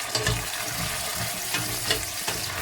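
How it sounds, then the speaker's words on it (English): Water pouring into a cooking pot of pilau rice with potatoes, a close, steady splashing and sizzling wash that runs throughout with no one speaking. "I'm gonna add in again a little bit of water"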